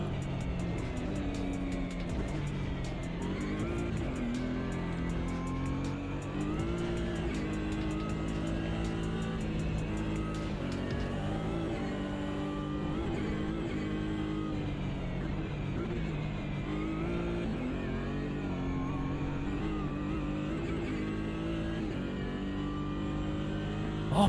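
A race car engine drones steadily in a sim racing game, the car on cold tyres at roughly GT4 pace, holding a continuous loud hum with small shifts in pitch and no clear speech over it.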